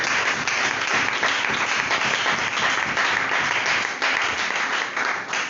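Church congregation applauding and acclaiming in steady, dense clapping mixed with cheering voices, loud and sustained throughout with no break.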